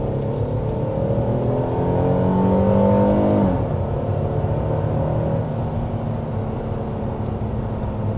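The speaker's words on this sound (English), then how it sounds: "There's a little sport mode acceleration, just to show you what that looks like." A 2025 Kia Telluride accelerates hard in sport mode, engine note rising steadily through the gear, then dropping at a shift and settling into a lower, continuous drone heard from inside the cabin.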